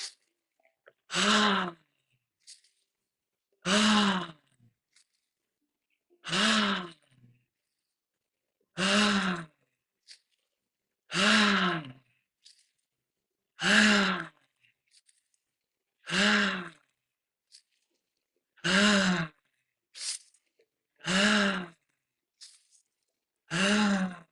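Group breathwork session with deep breaths drawn in through the nose and pushed out through the mouth, about ten loud, close, airy exhales spaced evenly every couple of seconds, separated by quiet pauses.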